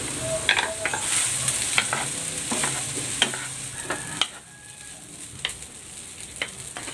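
Cooked rice seasoned with salt and pepper is stir-fried in a hot pan for restaurant-style fried rice: a steady sizzle with repeated sharp clinks and scrapes of the spatula.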